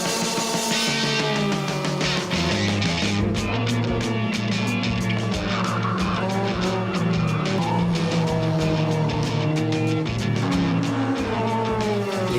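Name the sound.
race car on circuit at full throttle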